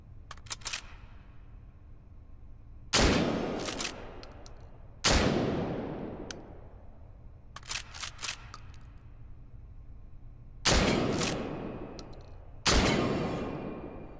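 Shotgun blasts in the H3VR virtual-reality shooting game: four loud, close booms each trailing off in a long decay, spaced a few seconds apart, with lighter mechanical clacks of handling and reloading between them.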